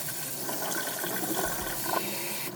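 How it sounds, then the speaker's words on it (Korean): Glutinous rice and barley rinsed under a running kitchen tap, a steady close splash and trickle of water over grains in a bowl, continuous throughout with no talking. "흐르는 물로 이렇게 여러 번 씻어주세요"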